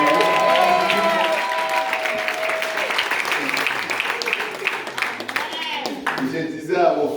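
A church congregation claps and cheers for Jesus at a birthday celebration, a continuous wash of applause with excited voices and someone speaking over it.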